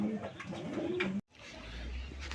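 Desi pigeons kept for sale coo in soft, low repeated calls nearby. A brief dropout in the middle is followed by a low rumble as the cooing resumes faintly.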